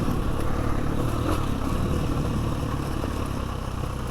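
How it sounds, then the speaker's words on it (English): A dirt bike engine rides a trail with a steady, close motor drone and slight rises in revs, with a constant rumble and no pauses. "through here on a dirt bike"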